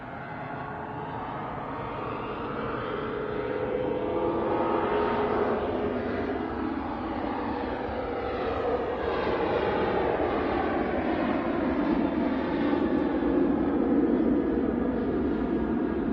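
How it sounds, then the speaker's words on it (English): A Ryanair Boeing 737 departs Manchester Airport with a broad, steady jet roar that holds loud for the whole stretch, swelling slightly as it goes, with no talk over it. "We thought we'd go early this morning just so you could see this Ryanair depart."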